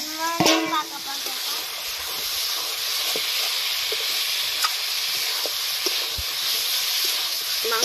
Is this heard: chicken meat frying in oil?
yes